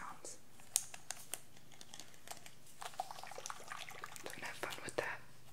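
Soft, scattered clicks of a plastic dropper from a soy candle making kit being squeezed, quiet and close, over faint rustling and low whispering.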